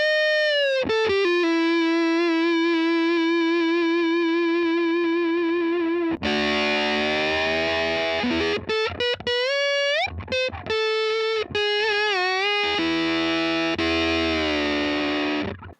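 Electric guitar played through a drive pedal set for thick, filthy stoner rock distortion: a sustained chord rings for several seconds, then heavier saturated chords and short choppy stabs follow, loud and close with no voice.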